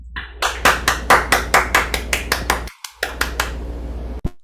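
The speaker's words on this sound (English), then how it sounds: "Please give him and his team of evaluators a thunderous round of applause." Audience applause at a club meeting, rendered as a string of distinct, loud, evenly spaced claps from close by, with a short pause before a few final claps.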